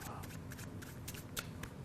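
A deck of playing cards is riffled and shuffled by hand in a card magic routine, giving quick close papery bursts and soft flutters, fairly quiet throughout.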